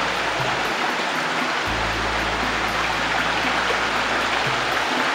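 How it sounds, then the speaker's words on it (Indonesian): A small stream in a Javanese village rushes and splashes steadily, a loud, dense, continuous wash of water close by, with no voices over it. "Ini nampak ada sungai kecil."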